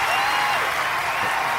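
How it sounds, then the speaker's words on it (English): Applause effect in a game: a continuous, dense wash of clapping that stays loud and steady throughout, with no voices over it. "that deserves a big round of applause for that"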